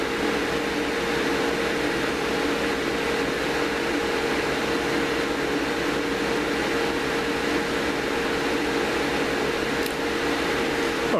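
Steady broadband whir of the cooling fan on a GS-35B valve amplifier running with its heater on, loud and continuous throughout with a faint constant hum beneath and no talk.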